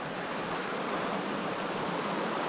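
A mountain creek on a trout fishing trip rushes steadily, a continuous broadband wash of flowing water at moderate level with no talk.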